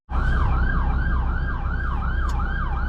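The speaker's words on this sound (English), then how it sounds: "I can hear a siren, but I'm not too sure where from" A wailing emergency siren cycles up and down steadily, loud and continuous over a low rumble of road and engine noise.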